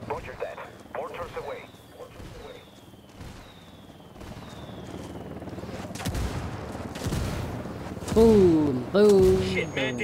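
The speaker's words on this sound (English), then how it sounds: "Call the rebels for some indirect fire" Rebel indirect fire called in during Ghost Recon: Wildlands, heard as scattered booms and crackling gunfire of varying loudness, with a swell of heavier blasts in the middle and voices and game sounds mixed in.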